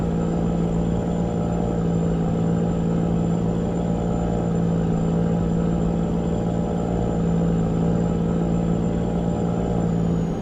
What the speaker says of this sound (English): It sounds like this truck's got a miss in one of the cylinders.